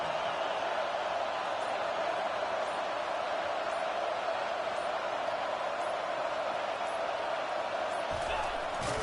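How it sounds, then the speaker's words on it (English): A college football stadium crowd roars steadily for the home defense during a red-zone stand, a dense, continuous wall of cheering that stays loud throughout and drops off briefly near the end. "This crowd is trying to inspire this defense to make a big red zone stop."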